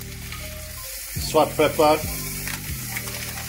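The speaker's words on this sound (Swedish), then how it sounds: "Vi låter de här steka ihop." Vegan burger patties sizzle steadily in a frying pan, a constant crackling hiss beneath a few brief spoken words.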